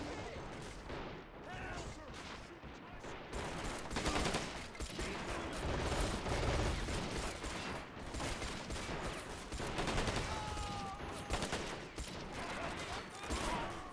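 Dense, continuous machine gun bursts and scattered gunfire in a Call of Duty campaign battle, loud and sustained throughout with explosions mixed in and no clear pauses.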